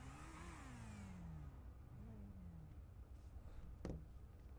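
Motorbike engine in GTA 5 revving and shifting, its pitch rising and falling in a couple of sweeps, steady and fairly close, with a sharp knock near the end.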